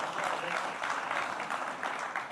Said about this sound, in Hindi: तालियां बजाइए अशोक जी के लिए।